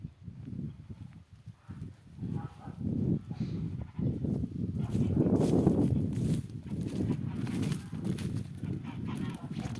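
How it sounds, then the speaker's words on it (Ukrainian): Geese honking repeatedly at close to moderate distance, irregular overlapping calls with some shuffling movement sounds underneath. "сусідські гуси прийшли"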